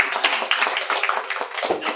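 Scattered audience clapping at a comedy roast, fairly close, uneven claps that tap along for a couple of seconds at moderate loudness.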